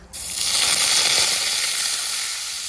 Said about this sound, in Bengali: প্রথমে দিয়ে দেবো আমি পেঁয়াজ পেস্টটা।